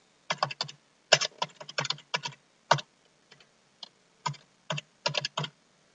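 A name is typed on a computer keyboard in short bursts of crisp, close key clicks separated by brief pauses, with no talking.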